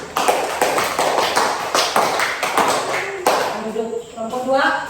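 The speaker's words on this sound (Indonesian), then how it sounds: "Kita beri aplaus dulu untuk kelompok 1." Students clapping for group 1 in a classroom, a loud burst of quick overlapping claps that fades near the end as a voice begins to speak.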